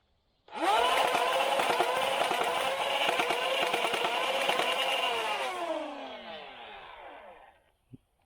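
A homemade full-auto AK-style shop blaster fires one long continuous burst, a loud dense rattling buzz that holds steady for about seven seconds before winding down, with a single short click right after it stops.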